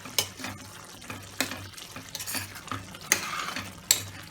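A spoon stirs a simmering prawn gravy curry in a pot, giving intermittent scraping clinks and wet stirring over a low bubbling sizzle, fairly quiet and close.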